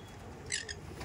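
A female tumbler pigeon, held up to be shown, gives a brief soft coo, faint and close.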